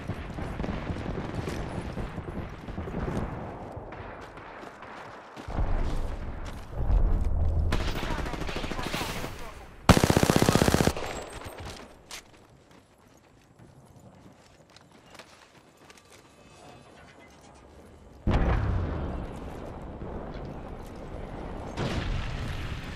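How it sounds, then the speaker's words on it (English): Knuckle cluster grenade explosions in a video game, several loud bursts of rapid popping blasts separated by quieter stretches, with game sounds and a voice underneath. "Launching me knuckle cluster."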